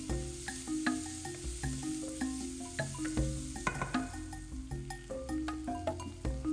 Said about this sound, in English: Now add the finely sliced onions and saute it